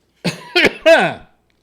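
Three quick, harsh coughs in a row after a drink, close and loud, followed by silence.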